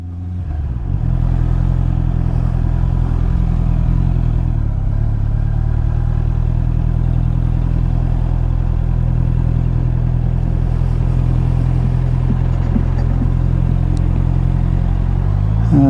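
Honda CB650R motorcycle engine running steadily while filtering through rush-hour commuter traffic in Edinburgh, a loud, continuous low drone held close throughout with a slight swell toward the end, no talking.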